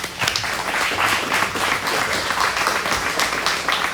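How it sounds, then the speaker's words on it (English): An audience claps together at a meeting, a dense, lively round of applause that holds steady for several seconds without speech. "Let's give him a round of applause."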